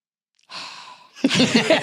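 A young child breathes in and then out through the mouth, close by: a soft, airy inhale followed by a louder, breathy exhale with a slight voiced sigh.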